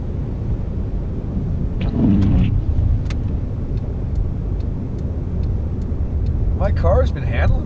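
A car drives through falling snow at night, heard from inside the cabin. A steady, loud low road and engine rumble runs throughout, with a person talking over it.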